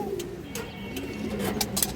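A female pigeon coos softly in a short, low burble nearby, with faint clicks and handling sounds over a quiet background.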